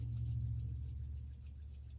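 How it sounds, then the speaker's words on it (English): Hands rubbing together during a gentle hatha yoga practice, a soft, quiet, continuous brushing friction close by for a couple of seconds, without speech. "Rub the hands together again"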